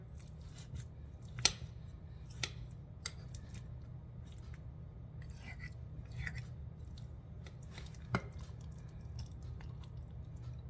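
A knife cutting into a dish of baked mac and cheese, heard as a few soft, close squishing cuts and scrapes over quiet room hum, with no talking.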